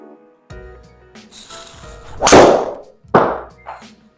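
A golf 3 wood struck off the deck during a speed warm-up, with quiet rustles before a sharp, loud club impact and whoosh, then a second strong swish shortly after, no talking.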